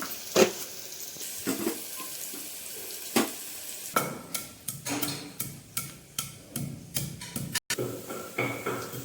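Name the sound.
onions frying with salt in mutton curry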